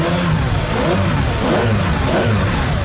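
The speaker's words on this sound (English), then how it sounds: "Because to listen to that V12 in the back" A Ferrari Enzo's V12 engine revs loud and close, a dense continuous roar that swells and eases through the whole stretch without any voices.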